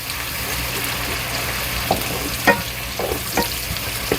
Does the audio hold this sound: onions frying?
yes